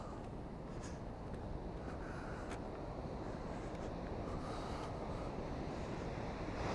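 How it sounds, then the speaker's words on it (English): Faxafoss waterfall in Iceland roaring as a steady, broadband rush of falling water, constant and fairly distant, with some wind buffeting the microphone and no voices. "Let's take a look at the waterfall."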